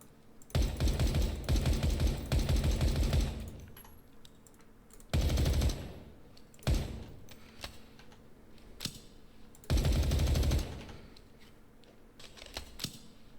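MK18 rifle fired in the Ground Branch game: three long full-auto bursts of rapid gunfire separated by pauses, with a couple of single sharp shots between them, loud and close.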